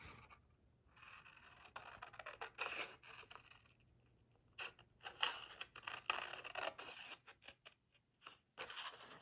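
Scissors snip through a paper template for a handmade mini album, sounding as quiet, close bursts of cutting and rustling that come in several passes separated by pauses.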